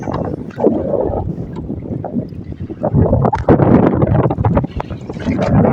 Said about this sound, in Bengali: আজকে কত স্রোত এবং বাতাস যে নদীতে এত পরিমাণে ঢেউ উঠছে